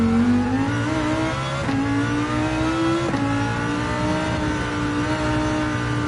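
Race car engine in Gran Turismo 7 at Interlagos, held on partial throttle with a steady loud drone that rises in pitch, dips at two quick shifts, then climbs again, continuous with no talking.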